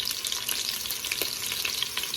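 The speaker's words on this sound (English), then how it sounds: "Now I'm just browning up my seasoned lamb." Seasoned lamb cubes brown in a hot pan, cooked in batches, with a continuous crackling sizzle and faint stirring texture, close and moderately loud, no voices.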